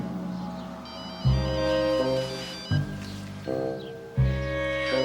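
A telephone rings indoors with repeated electronic tone bursts in a steady pattern, each ring separated by short pauses, alone without talk.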